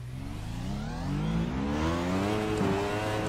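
A McLaren MP4-30 Formula 1 car engine in the racing simulator iRacing, a high-pitched whine rising steadily as it accelerates, close and sustained with no voices.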